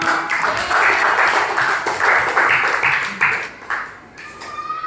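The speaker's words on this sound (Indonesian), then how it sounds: "tepuk tangan untuk kita semua" A classroom of elementary school pupils claps together, a dense, steady burst of many hands that carries on for several seconds and then thins out near the end.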